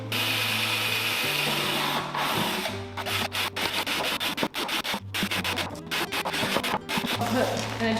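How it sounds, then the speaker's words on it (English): Power drill boring holes into a plastic plant pot, intermittent grinding bursts with a steady motor hum and scraping between them. "drill some holes."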